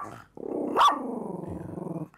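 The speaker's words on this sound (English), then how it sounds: "Hoku has a very good memory of that dog, MAX, and when you say his name, she remembers" A dog growls and then breaks into a loud, drawn-out growling bark at close range, rising to a sharp peak before settling back into a steady rumbling snarl, with no talking over it.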